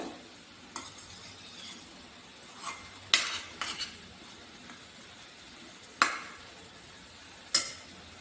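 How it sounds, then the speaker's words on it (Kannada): Vegetables with salt are stirred together for a wheat momo filling, making soft shuffling with a few sharp clinks of a spoon against the bowl spaced seconds apart, close and with no speech. "ಉಪ್ಪು ಹಾಕಿರೋದ್ರಿಂದ ಕ್ಲೀನಾಗಿ ಕಲಿಸ್ಕೊಂಡ್ರೆ ಪ್ರತಿಯೊಂದು ಇದಕ್ಕೂ ವೆಜಿಟೇಬಲ್ಸ್ಗೂ ಉಪ್ಪು ಹಿಡಿಯುತ್ತೆ"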